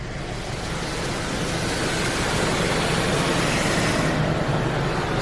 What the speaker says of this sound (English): Hot-free rinse water is now being applied to your vehicle.